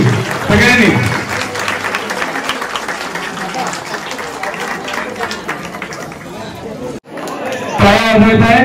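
Applause for Kishabai at a village Holi (Shimga) festival in Kotwal, a dense crowd clapping steadily with chatter and shouting mixed in, breaking off briefly near the end before a louder burst of clapping and voices.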